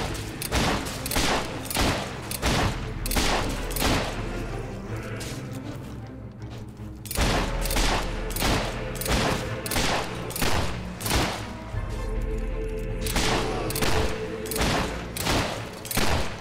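A gun fires in the video game Fable 3: rapid, evenly spaced loud shots for several seconds, a brief pause, then the steady barrage resumes until the end.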